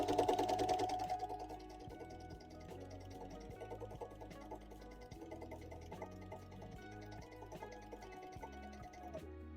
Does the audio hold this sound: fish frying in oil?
no